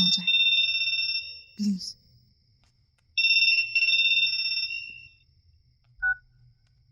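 A telephone rings in two long electronic trilling bursts with a pause between, loud and clear, while a voice briefly speaks and a short beep follows near the end.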